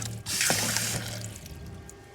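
Water bursting from a camper van tap after thawing, a sudden hissing gush that starts loud then settles into a steady softer flow, close by.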